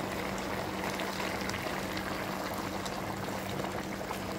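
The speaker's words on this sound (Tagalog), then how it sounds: "Magla-a-add na po tayo ng sabaw." Broth poured into a pot of tinola chicken soup with cooked papaya, a steady soft liquid stream and gentle simmering hiss, faint and continuous with no talk.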